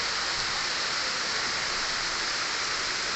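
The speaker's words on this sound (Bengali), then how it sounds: "এত জোরে নেমেছে পুরো জল জমি দেবে" Heavy rain pours down steadily, a dense, constant hiss of falling water filling the whole scene with no gaps or voices.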